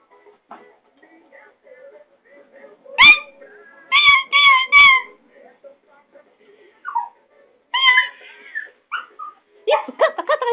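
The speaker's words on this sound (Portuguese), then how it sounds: "Pega o cachorro, Pumba." A dog gives short high yips and whimpering cries in uneven bursts, close by, with quiet pauses between.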